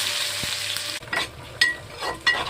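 Cumin seeds sizzle in hot oil while frying for a curry, giving a close, steady crackle broken by a few sharp scraping stirs.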